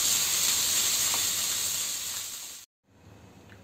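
Chicken pieces frying in a pan of oil for chicken pasta, a loud continuous sizzle and hiss that fades slightly, cuts out abruptly, then returns faintly.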